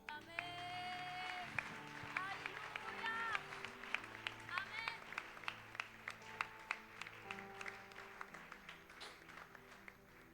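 Church congregation cheering and clapping in praise of the Lord, a crowd of voices and steady rhythmic applause filling the room, with scattered singing and shouting over sharp repeated claps.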